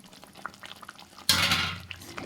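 Curry gravy thickened with besan and thinned with water hisses and bubbles in a pan, a sudden loud sizzling boil bursting in partway through and continuing steadily after a quieter stretch.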